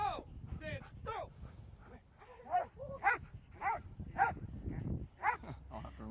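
A police K9 dog barks, yips and whimpers in quick bursts during a suspect takedown demonstration, loud and close, while people talk over it.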